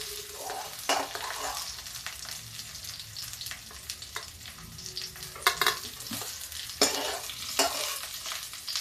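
Jackfruit pieces frying in oil until browned, with a steady sizzle under the scrape and clatter of a spatula stirring and lifting pieces, close and moderately loud, no talking.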